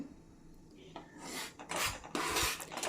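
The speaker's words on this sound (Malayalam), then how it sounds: "രണ്ടും കൂടി ഇട്ട് ഒന്ന് ചൂടാക്കി എടുക്കണം. ഒന്ന് റോസ്റ്റ് ആയിക്കോട്ടെ, കുഴപ്പമില്ല. നല്ലപോലെ ഇളക്കി കൊടുക്കണം." Ingredients roasting in a pan for a sweet wheat-flour dumpling dish, stirred with firm scraping rubs against the pan bottom that grow louder and denser toward the end, close by and without talk.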